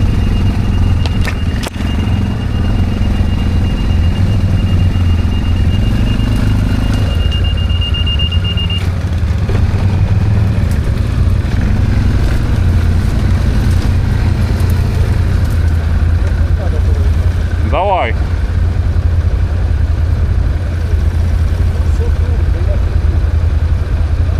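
A Linhai 550 or BRP 1000 ATV quad bike engine runs nearby in a continuous loud drone, with a brief squeal-like burst late on.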